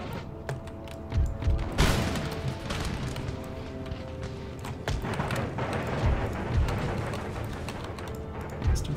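Cavalry horses galloping in an Empire Total War battle near Madrid, a rolling rumble of hooves with scattered musket cracks and booms mixed into loud, busy battlefield noise.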